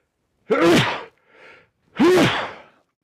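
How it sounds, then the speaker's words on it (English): Two loud, close sneezes about a second and a half apart, with a softer breathy sound between them. "I'm going to sneeze"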